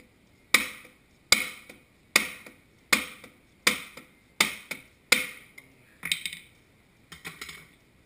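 A hammer smacks a Bobcat 753 drive motor seal into place in nine sharp, evenly spaced blows, each a crisp close metallic crack with a short ring-off, the last few slightly softer and doubled.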